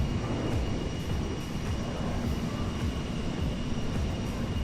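Steady jet engine roar of a CRJ regional jet in Microsoft Flight Simulator, heard from an outside view as a continuous broadband rumble with a faint high whine, held at an even level throughout.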